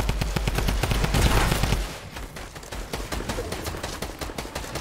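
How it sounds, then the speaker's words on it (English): Video game gunfire rattles in rapid automatic bursts, loud and continuous. A heavier, booming stretch at the start gives way to lighter, fast-repeating shots. "They shot up from height."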